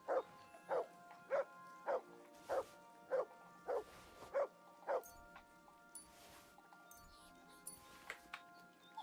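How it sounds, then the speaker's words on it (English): A dog in the video game Kingdom Come Deliverance 2 gives a regular run of about eight short barks, fairly faint and evenly spaced, then falls quiet against a low ambient background. "Good boy, Mutt"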